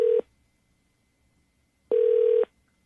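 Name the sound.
telephone ringing on outgoing call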